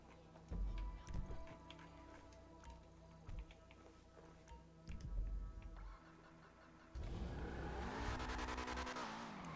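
A car in GTA 5 Online starting up and driving, with engine revs rising and falling in bursts, brief thumps and skids, then a sustained louder drive toward the end, no talk.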